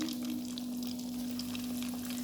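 Deep frying in oil, likely for Thai fried pork cakes or nam pork, gives a steady unbroken crackling hiss over a constant low electrical hum, close and even, with no voices.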